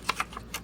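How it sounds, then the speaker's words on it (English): Several quick, crisp snips as scissors freehand-cut fabric material for a junk journal cover decoration, close up and fairly quiet, with no talking. "So I think I'm just going to go ahead and cut this now."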